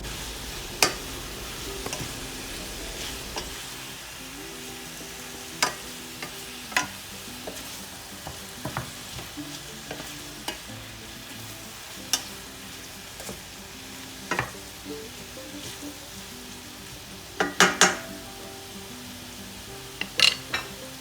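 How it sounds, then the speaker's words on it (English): Haitian-style saltfish is stirred into onions and peppers frying in oil, with a continuous soft sizzle and scattered clicks and scrapes of the spoon against the pan, no speech. "I am now adding my fish to my onions and peppers, and I will mix it all in."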